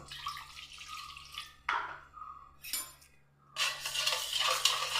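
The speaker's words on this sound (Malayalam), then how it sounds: "നല്ലപോലെ ഒന്ന് മിക്സ് ചെയ്യുക." A spoon stirs a marinade of yogurt, salt, vinegar and water in a bowl, making close, wet swishing and clinking in two bursts, with a short pause between them and no speech.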